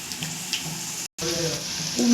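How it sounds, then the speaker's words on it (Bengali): Chicken pakora balls frying in hot oil on a gas stove, a close steady sizzle with faint bubbling, briefly cut to silence midway before the hiss resumes. "এগুলো লাল লাল করে ফ্রাই হচ্ছে,"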